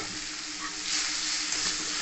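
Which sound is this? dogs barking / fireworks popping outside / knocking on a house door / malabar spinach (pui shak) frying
malabar spinach (pui shak) frying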